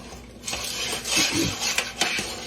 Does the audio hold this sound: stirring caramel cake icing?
yes